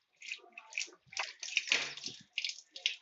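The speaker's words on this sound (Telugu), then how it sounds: "కొంచెం తాగి మళ్ళీ ట్యాప్ తిప్పంటాడు చూడు" A tap runs in uneven splashing bursts as someone drinks from it and turns it back on, the water gushing and sloshing close by with brief gaps between flows.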